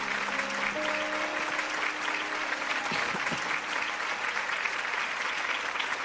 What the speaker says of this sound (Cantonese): 而家請大家用熱烈嘅掌聲歡迎陳利先生